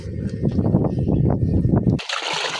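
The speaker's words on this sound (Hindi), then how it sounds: "यहाँ पे आप देख सकते हैं माशाल्लाह पानी स्टार्ट हो गया है" Water gushes loudly from a tubewell pump outlet driven by an INVT inverter, starting with an abrupt, sustained splashing rush that continues steadily to the end after an earlier stretch of talk.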